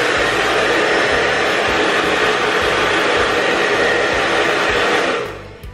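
Han River hair dryer blowing a strong, steady, loud airstream at close range, a constant rushing whoosh that cuts off near the end.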